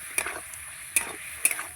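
Potatoes tossed in a pan with salt and turmeric powder, three sharp spatula scrapes against the metal over a faint, quiet sizzle, no talking.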